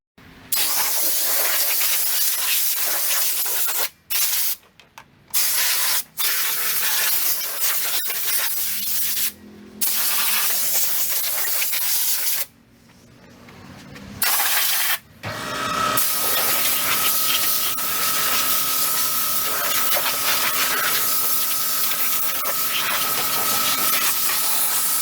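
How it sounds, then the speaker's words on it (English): Steady loud hiss of an air compressor filling the tire of a free Craftsman riding mower, broken by several short pauses, then continuing with a steady hum and faint tone. "we're gonna throw air in that tire"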